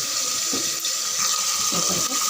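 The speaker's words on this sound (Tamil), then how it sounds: "இதை வாஷ் பண்ணி நல்லா வடித்து வச்சிடலாம்." Soaked rice is rinsed under a running tap. A loud, steady splash of flowing water continues throughout, with faint swishing as the grains are stirred.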